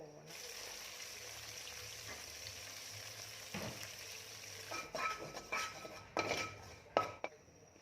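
Soft tofu, banana-leaf wrapped, stir-fries in a pan with a steady low sizzle, followed by several clinks and scrapes of a utensil against the pan, near and quiet.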